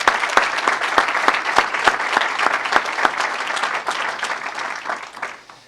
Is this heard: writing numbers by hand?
no